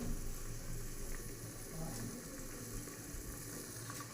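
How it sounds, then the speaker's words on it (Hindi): Tempered vegetables sizzle in a pan on a home stove, giving a soft, continuous frying hiss with faint crackles throughout. "सब्जी मैंने छोंक दी है"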